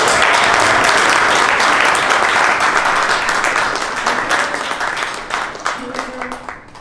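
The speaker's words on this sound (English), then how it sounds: "Please give them a warm, round welcome and applause to San Antonio." Audience in San Antonio applauds to welcome guest speakers at a U.S.–Iran relations program, loud clapping that gradually thins and fades as a few voices come in near the end.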